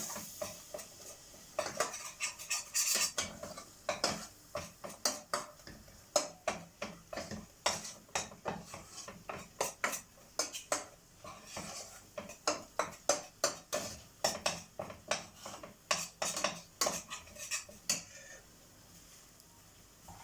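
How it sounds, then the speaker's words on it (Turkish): Half a cup of starch is toasted in a pan and stirred continuously, producing a long run of quick, rhythmic ticking scrapes of a metal utensil against the pan, fairly close and unaccompanied by talk. "yarım bardak nişastayı döktüm. Kavuracağım onu güzelce."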